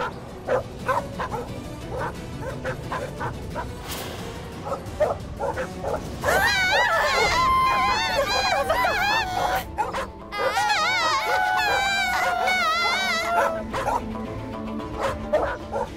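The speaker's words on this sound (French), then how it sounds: "ce chien est vraiment très dangereux" A dog barks repeatedly at close range, breaking into yips and whimpering whines in the middle, with sharp barks returning at the end.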